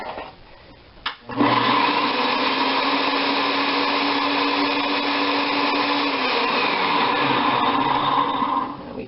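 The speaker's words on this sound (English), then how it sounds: "And there you have your shredded garlic." A food processor runs on its shredding disc, grinding garlic cloves fed down the chute: a steady, loud motor whine with a harmonic hum that starts after a brief clatter and runs continuously for about seven seconds before winding down.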